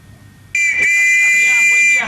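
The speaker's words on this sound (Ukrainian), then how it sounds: "Цей свисток сигнал для пасажирів полуничного потяга." A Strawberry Train whistle from the Madrid railway museum sounds one loud, steady shrill blast of nearly two seconds after a quiet start.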